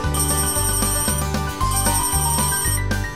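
A telephone rings loudly and steadily in a repeating electronic pattern of pulsed tones, with no voices over it.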